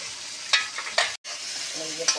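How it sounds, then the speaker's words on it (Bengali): Pointed gourd (parwal) sizzles in a pan over a clay stove, a steady frying hiss broken by a few sharp scraping stirs and one brief dropout. "এই যে পটলটা নেড়ে ফেলে দিচ্ছি"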